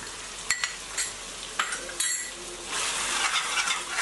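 Sambar powder stirred into radish sambar in a pot, with a few clinks of a spoon against the vessel and scraping strokes over a soft steady sizzle, close to the pan.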